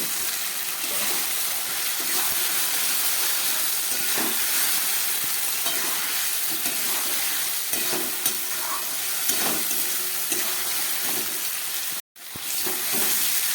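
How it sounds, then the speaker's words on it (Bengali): Spiced chicken and fried potatoes cooking down in a pan as the masala water dries off, a dense, constant sizzle with occasional stirring scrapes, close and loud, briefly cutting out near the end. "ভাজতে ভাজতে জলটাকে শুকিয়ে ফেলবো"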